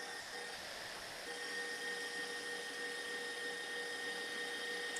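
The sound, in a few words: whisking egg whites with sugar and salt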